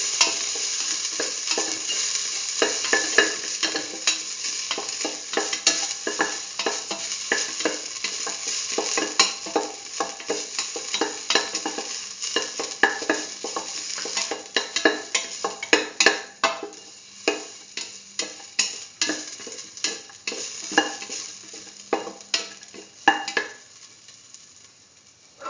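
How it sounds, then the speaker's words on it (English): Ginger frying in hot oil in a pan, a dense continuous sizzle with rapid crackles that grow into sharper pops and spits toward the end, close up and steady. "Spread the oil in the pan. Put in the ginger,"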